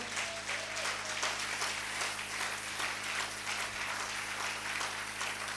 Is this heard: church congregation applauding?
yes